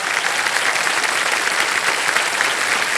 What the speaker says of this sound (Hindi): तो तालियां बज जाएं एक बार इनके लिए।